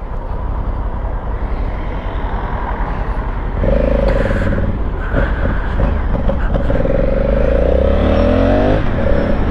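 A Honda CG-style motorcycle revs up and accelerates on a city street, a loud close engine drone rising in pitch with gear changes, heard from the rider's position amid road noise.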